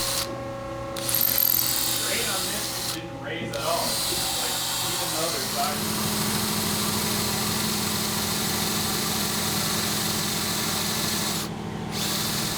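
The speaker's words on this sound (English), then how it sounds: "pilot hole some holes in the top side of our base so that we can use wood screws to assemble that plate" A power drill boring pilot holes into the top side of a steel table base, its motor whining steadily and loudly for most of the stretch after a few short starts and stops.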